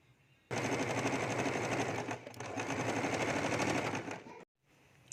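A sewing machine stitches elastic into old jeans, a dense rapid rattle that starts suddenly, runs close and loud for about four seconds, briefly slows, then cuts off.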